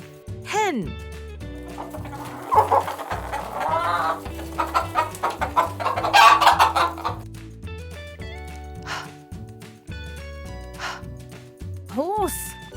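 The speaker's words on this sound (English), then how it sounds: "Hen." Hen clucking in short bursts over a steady musical backing, with a bright rising call near the start and again at the end.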